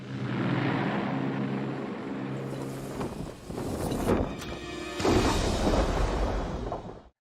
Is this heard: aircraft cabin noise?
yes